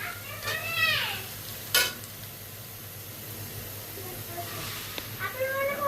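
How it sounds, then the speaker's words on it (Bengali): Dal boiling in a pot on the stove, a soft, continuous bubbling hiss beneath a nearby voice that speaks briefly at the start and end, with one sharp clatter in between. "ডাল বলক হইতেছে"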